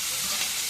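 Food sizzles steadily in a frying pan as it is stirred, a close, continuous hiss lasting under a second with no voices.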